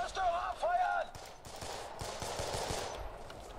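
Bursts of rapid gunfire in the video game Homefront, aimed at a restaurant, crackle at moderate level through a busy battle soundscape after brief radio-like voice chatter.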